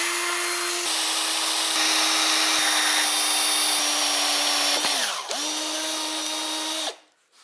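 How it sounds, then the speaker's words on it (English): A power drill bores a straight pilot hole ahead of tapping threads on a vintage dirt bike part. Its steady whine holds close and loud, dips briefly as the bit loads near the end, recovers, then cuts off. "Go in as straight as possible when you're drilling your pilot hole."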